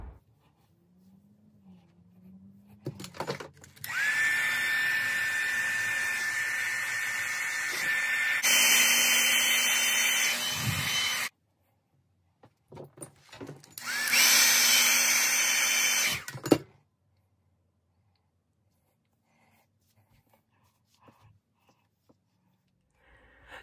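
Hair dryer blowing on blonde synthetic wig fibers, a whining rush of air running for several seconds, cutting off, then starting again for a shorter burst before falling silent.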